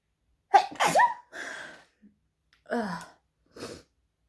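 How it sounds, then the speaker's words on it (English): A single loud, sharp sneeze with a sudden inhale, followed by a few short breathy bursts and sniffs, close to the microphone. "I'm going to sneeze."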